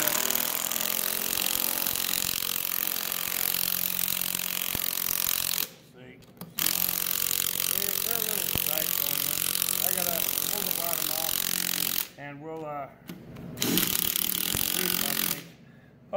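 A power driver sinking screws into the frame of a scratch-built 2x72 belt grinder in a workshop, with long stretches of loud whirring broken by short pauses, and someone talking over it.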